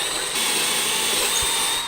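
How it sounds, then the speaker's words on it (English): A power drill whirs steadily and close while boring a hole through a cabinet or drawer front for a cup pull, the motor holding an even, loud pitch throughout. "We're going to go ahead and finish drilling our hole all the way through."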